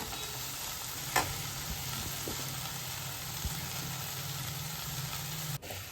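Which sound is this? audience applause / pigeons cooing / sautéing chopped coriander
sautéing chopped coriander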